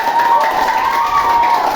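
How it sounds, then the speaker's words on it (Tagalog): Classmates applaud top math achievers in a classroom, giving a dense and fairly loud burst of clapping and crowd noise, with a steady tone running underneath. "Palakpak."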